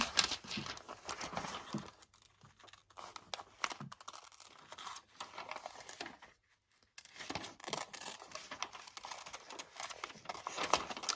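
Scissors carefully snipping a picture out of a glossy magazine page, with irregular crisp cuts and paper rustling, quiet and close, a brief pause midway, no talking.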